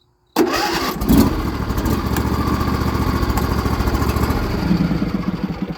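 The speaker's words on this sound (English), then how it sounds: "We're just gonna start it and shut it right off then." A John Deere L110 lawn tractor engine cranks and catches abruptly, then settles into a steady, loud, even running drone for several seconds without stopping.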